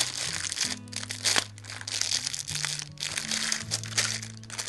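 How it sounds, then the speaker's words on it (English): Close, crisp crinkling and crackling of plastic packaging, handled in irregular bursts with no talking. "Sorry about all the crinkly plastic noise."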